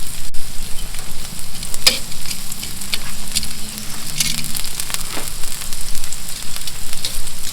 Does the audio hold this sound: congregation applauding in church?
no